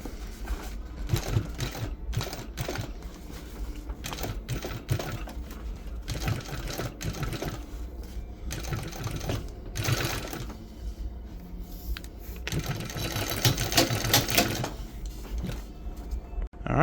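Walking foot sewing machine stitching welting onto a boat seat cover, running in loud rhythmic bursts with short pauses and stops between runs, close and mechanical.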